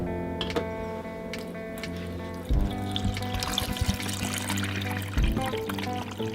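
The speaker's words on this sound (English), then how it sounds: "you will pour the water into this back compartment" Water poured from a pot into the rear reservoir of a drip coffee maker, a steady trickling stream with a low hum beneath and two brief louder splashing surges.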